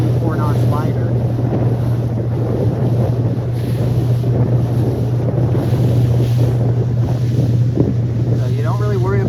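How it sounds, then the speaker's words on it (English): Strong wind roars across the microphone at Point Loma, San Diego, during a sailing race. The rush is loud and steady, with a low hum and faint lapping water under it. "This is the windiest spot in San Diego, Point Loma."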